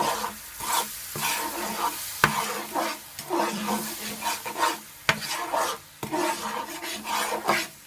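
Brown sugar and cinnamon stirred in a sizzling pan for peach French toast: continuous frying hiss overlaid with repeated rasping scrapes of a utensil across the pan, arriving in uneven strokes with a few sharp knocks.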